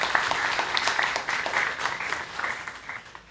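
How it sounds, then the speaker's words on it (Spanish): An audience at a university event applauds, a continuous crowd of clapping hands that holds steady and then thins slightly toward the end, with faint voices mixed in. "Un aplauso al compañero José Lazo."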